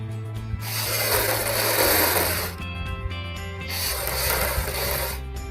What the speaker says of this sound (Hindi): अब हम ऊपर से सिलाई लगानी शुरू करेंगे